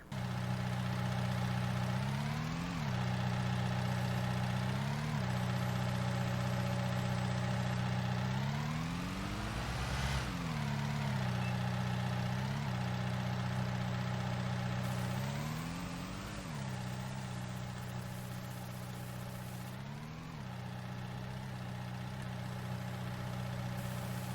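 A skid steer loader engine in Farming Simulator runs steadily close by, its harmonic drone swelling in short revving bursts every few seconds as the machine works, with no voices over it.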